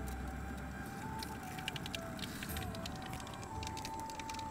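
Mustard seeds crackling and popping in hot oil, a faint scatter of quick irregular pops over a steady low sizzle, close to the pan.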